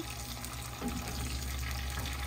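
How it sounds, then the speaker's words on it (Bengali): Chopped green chilies and curry leaves frying in hot oil for a Bengali-style dal tadka, giving a steady close sizzle with a brief louder crackle around the middle. "কারি পাতা দিয়ে এবার আমি উপকরণগুলোকে 1 মিনিটের মতো ভাজবো।"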